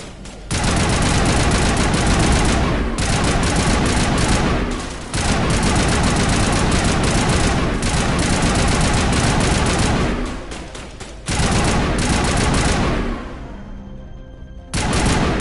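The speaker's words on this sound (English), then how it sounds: "Who is shooting me?" Rapid bursts of gunfire in the video game Mass Effect on Insanity difficulty, loud and dense, coming in long sustained volleys broken by short pauses, with no talk over them.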